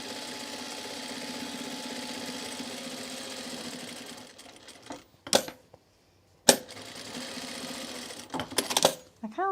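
A sewing machine runs a second row of topstitching in a steady whir for about four seconds, then stops, followed by a few sharp clicks and clacks with short bursts of motor noise.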